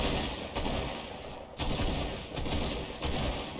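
Gunfire in a shooter video game comes as dense, continuous bursts of rapid shots. Several volleys arrive in quick succession and sound fairly loud and close.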